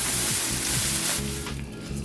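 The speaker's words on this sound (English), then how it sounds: "Give that a stir." Green beans with smoked turkey hiss and sizzle steadily in a pot while being stirred, a close, continuous bubbling sound with a few soft scrapes before it thins out near the end.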